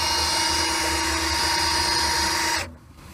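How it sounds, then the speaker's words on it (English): A power drill spins an engine's oil pump to prime it, a loud steady whining drone with a low churning hum that runs continuously and then cuts off near the end, with no talking. "I've got a drill motor hooked up to our oil pump."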